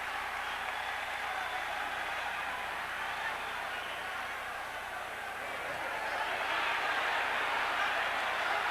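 Boxing arena crowd at the 1980 Alexis Arguello versus Jose Luis Ramirez fight, a dense sustained roar and cheer that holds steady throughout and swells toward the end, with no voices standing out.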